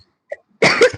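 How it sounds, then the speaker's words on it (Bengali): A single sharp human cough, close and loud, after a short quiet pause with a faint click. "আমার একটু কাশি হয়েছে।"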